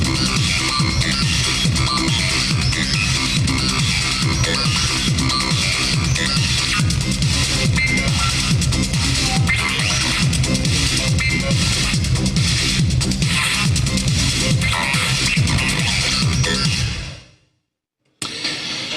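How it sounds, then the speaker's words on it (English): A loud, dense Korg Oasys synthesizer pattern pulsing in a fast, steady step-sequenced rhythm, continuous until it cuts off abruptly near the end. "So you can create these amazing rhythmic sounds like this."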